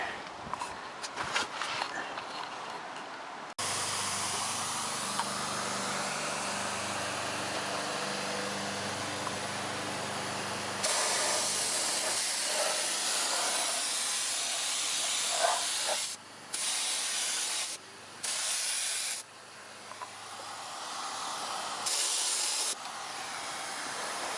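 Undercoating spray applied to a slightly rusty lower radiator support on a car, heard as a loud, steady close hiss that runs for long stretches and then breaks into several short bursts with brief pauses near the end.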